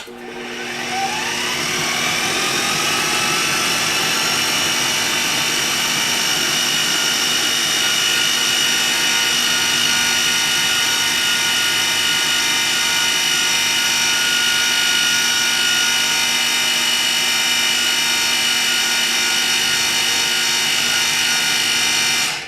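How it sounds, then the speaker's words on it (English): A food processor on high grinds walnuts with almond flour, vanilla powder and salt into fine flour. It makes a loud, continuous, high whirring roar that spins up at the start and holds steady for over twenty seconds with no voices. "let's process again until we have a nice fine flour texture on high again"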